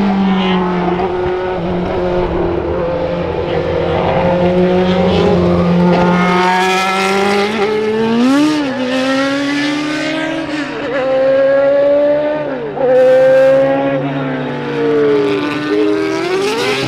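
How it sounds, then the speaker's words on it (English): Supercars, a McLaren 675LT, Ferrari 488, Lamborghini Aventador and Huracan, start up and pull away toward the Mercedes-Benz test track in a loud, continuous engine drone, with revs rising and falling as they move off. "all the cars are now starting up and they're heading to the Mercedes-Benz test track"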